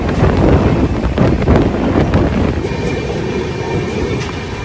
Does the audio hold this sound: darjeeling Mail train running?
yes